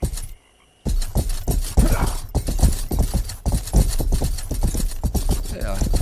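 Horse hooves clip-clop in a steady, rhythmic gait inside the medieval video game Rustler, with the armored knight's horse plodding along. The hoofbeats sound close and fairly loud, mixed with voice-like sounds.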